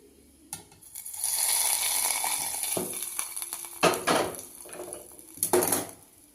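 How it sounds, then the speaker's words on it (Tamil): A flat iron dosa griddle set down on a home stove, a couple of sharp metallic clanks and scrapes standing out over a steady background hiss, with a few further knocks of cookware toward the end. "தோசைக்கல் அடுப்பில் வச்சுட்டேங்க."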